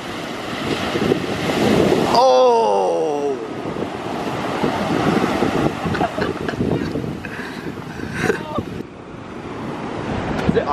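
Big ocean surf at a beach, with waves rolling and crashing continuously amid gusting wind noise on the microphone, while people shout and laugh nearby.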